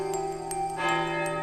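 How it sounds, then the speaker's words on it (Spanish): A clock's bell chimes with resonant, sustained ringing tones that overlap and linger, joined by faint ticking, all without any voices. "el reloj únicamente tocó 11 campanadas"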